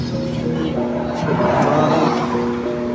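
A Raider 150 Fi motorcycle engine runs at idle with a knocking fault, giving a loud, continuous close-up drone with a rough, uneven rattle throughout.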